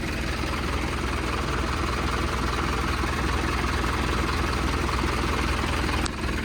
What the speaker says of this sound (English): Well, the engine seems to be running okay.